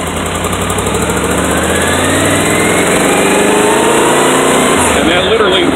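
Motorcycle fitted with an aftermarket TCI ignition unit idling steadily, a loud close continuous engine drone with a slight rise in pitch, no talking.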